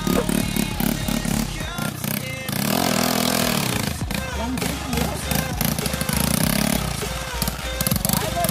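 Motorcycle engine revving hard during wheelie training, rising and falling in loud throttle bursts with gear-change dips, while people talk over it.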